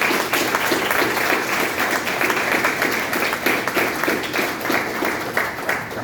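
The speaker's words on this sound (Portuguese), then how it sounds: "aplauda bem forte ao nome de Jesus" A church congregation applauds during a Sunday worship celebration, sustained loud clapping filling the room for several seconds with no talk over it.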